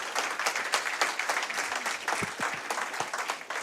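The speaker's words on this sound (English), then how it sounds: "let us once again express our heartfelt gratitude to Ram Nath Kovind" An indoor audience at an academy inauguration event gives a steady round of applause, with dense, continuous clapping of moderate loudness and a few louder claps near the end.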